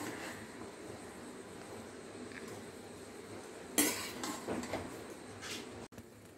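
Noodles are moved from a pan into a bowl in a quiet kitchen: faint background hush, then a sudden metal scrape and a burst of clattering utensil-on-pan knocks before the noise cuts off.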